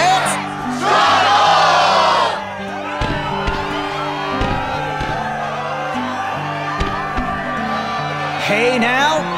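Crowd cheering and whooping at a struggle match in the Kingdom Hearts video game, a loud roar opening the stretch before settling into steady crowd noise beneath game music and voices.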